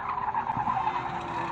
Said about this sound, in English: there goes Mick, spun round by Trevor Newland